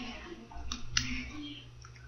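A computer mouse clicks a few times, sharp short ticks spaced apart, fairly quiet over a low background hum.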